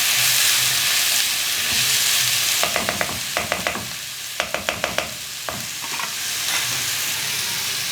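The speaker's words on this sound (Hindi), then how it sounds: "ये देखिए हमने थोड़ा सा ऑयल में इसको फ्राई कर लिया है।" Food fries in a little oil while cooking cheesy spaghetti, a loud, steady sizzle with a burst of sharp spoon-on-pan clicks and scraping from stirring in the middle.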